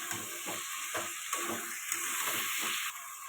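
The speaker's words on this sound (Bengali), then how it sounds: "এটা ভালো করে কষাতে থাকবো।" Chicken pieces sizzle in hot spiced oil for a red chicken and potato curry, a continuous frying hiss broken by rhythmic scraping as the pan is stirred roughly every half second.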